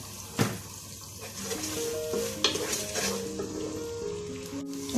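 Chopped onion sautéing with salt in a hot pan for chicken majboos, a steady close sizzle with stirring scrapes and a few sharp clinks of the spoon against the pan.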